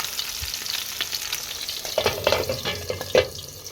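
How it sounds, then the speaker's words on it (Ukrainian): Sizzling and crackling of fish frying in a pan, with occasional louder pops and spatters over a steady hiss. "На вечерю смажу рибку"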